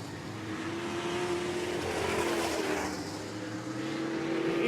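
A methanol-fueled modified-division race car engine, just fired up at a dirt track, idles and revs with a rising and falling drone, moderately distant and continuous.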